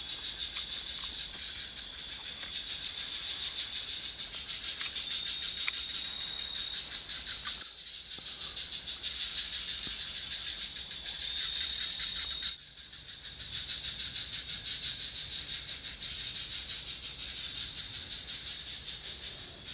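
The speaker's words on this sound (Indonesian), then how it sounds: "Dengar nggak teman-teman? Suara kodok. Krak krak krak krak krak krak krak krak." A dense, unbroken night chorus of frogs fills a campsite in the dark, steady and fairly loud throughout, with two very brief dips before it resumes at full strength.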